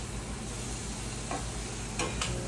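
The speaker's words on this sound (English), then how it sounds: "give it a nice little toss in the pan" Spiced spaghetti squash tossed in a frying pan, a steady sizzle with a few brief scraping clatters near the end, close and alone.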